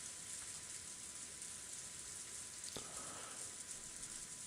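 Steady, even hiss of rain falling in the visual novel Umineko: When They Cry, outside a window at the Grey Rose garden. A single sharp tick sounds partway through, and no voices are heard.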